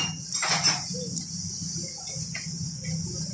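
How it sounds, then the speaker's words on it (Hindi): Metal clutch plates and pressure plates for a 125 motorcycle clutch are handled, giving a few light metallic clinks and clatters up close, strongest near the start, over a steady low workshop hum. "चल चल हम नई क्लच प्लेटें और प्रेशर प्लेटें हम डालेंगे इसमें।"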